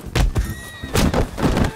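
Horse in a video game gives a loud, close whinny in short bursts, with hoof clatter mixed in.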